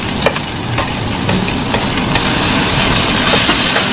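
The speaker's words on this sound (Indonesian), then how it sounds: "Kita goreng sekarang" Sliced eggplant frying in a pan of hot oil for roasted eggplant with shrimp-paste chili sauce, giving a steady close sizzle and crackle throughout, with a few sharper pops and spatters along the way.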